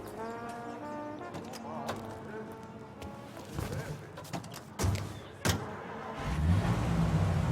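A car moves through the streets in Mafia Definitive Edition, its engine a low steady hum under in-game dialogue, with a few thumps and a louder rumble toward the end.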